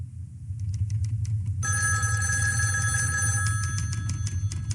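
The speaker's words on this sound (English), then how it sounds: "Do you want to take the phone on 57, Joe" A telephone on an office line rings steadily for several seconds, bright and continuous, over a low rumbling background with no talk.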